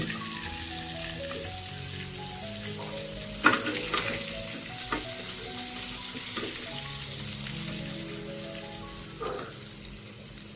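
Rohu fish frying in hot oil in a wok, a steady close sizzle with soft crackle and a few louder spatters or clinks of a utensil, no talk.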